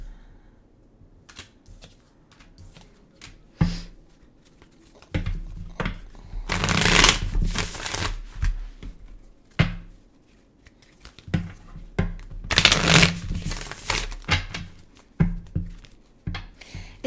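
Tarot cards being shuffled at a reading, with bursts of riffling and rapid flutters between softer taps and handling, close up, no talk.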